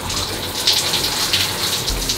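Water gushes steadily from an old shower tap in a cheap French motel, a loud continuous hiss of running water filling the whole clip without a break.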